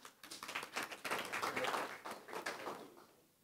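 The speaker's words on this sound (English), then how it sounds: "Give him lukewarm applause." A conference audience at a marketing and media event gives brief, scattered, fairly quiet applause lasting a few seconds before trailing off.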